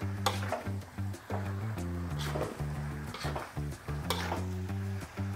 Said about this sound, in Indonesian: setelah berapa lama diaduk terus sampai kering seperti ini, kita hampir selesai membuat rendang kering seperti ini